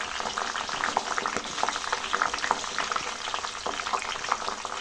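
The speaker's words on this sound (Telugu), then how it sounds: "చూసారు కదా ఇప్పుడు మసులుతూ ఉంటుంది" Oil simmering in a pan with hibiscus flowers, curry leaves and fenugreek seeds, a dense continuous bubbling sizzle with frequent small pops, close and steady.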